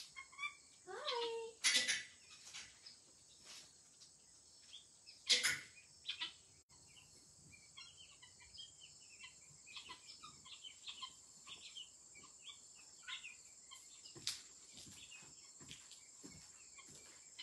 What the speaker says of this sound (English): Hi, babies. Hi, birds.